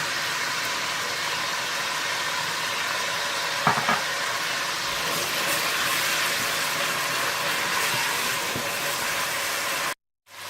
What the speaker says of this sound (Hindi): और साथ ही आप पिसा हुआ अदरक लहसुन डाल दें और उसे थोड़ा सा भून लें।